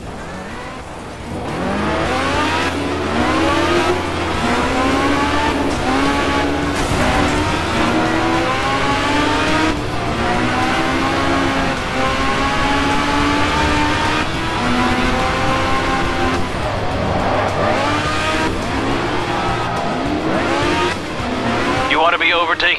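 Racing car engines in the Crashtime 5 driving game, loud revving and shifting with rising and falling pitch and tire squeals, sustained for about twenty seconds while a voice speaks over it.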